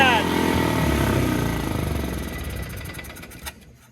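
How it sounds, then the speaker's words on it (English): A Polaris 6x6 utility vehicle's engine runs at a high idle, a loud steady mechanical drone that slowly fades, with a brief click near the end. "So it's got a high idle I have to diagnose."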